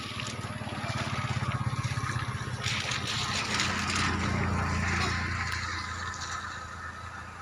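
Floodwater runs through a residential neighborhood in a steady rushing, gurgling flow. There is a rhythmic low throbbing underneath and faint voices in the background.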